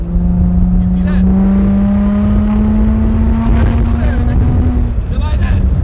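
A straight-piped Infiniti G35 engine holds a loud, raspy drone whose pitch climbs slowly as it revs, close and dominant throughout, easing off briefly near the end.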